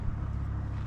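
Toyota Supra engine idling steadily just after startup, a low, even rumble that stays constant throughout, with no voices.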